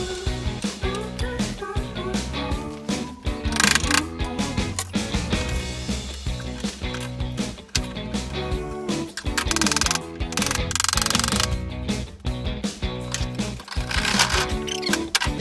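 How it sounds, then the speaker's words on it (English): Ratchet wrench clicking steadily while unbolting hardware from an old, rotten wooden sleigh, a dense, continuous run of fast metallic clicks, close and fairly loud throughout. "So I'm just going to unbolt all of this if I can."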